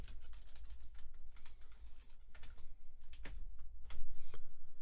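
Keys clatter on a computer keyboard as someone types into an Excel spreadsheet, the taps coming in quick irregular bursts at close range with no talking.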